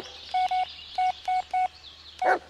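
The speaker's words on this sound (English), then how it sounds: "I'm phoning the vet." A telephone keypad dials in a quick series of short electronic beeps, about half a dozen evenly spaced tones, loud and close, ending in a brief rustle.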